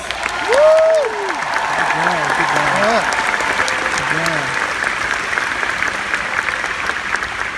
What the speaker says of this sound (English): Let's express our utmost gratitude for everyone's hard work with a rousing round of applause.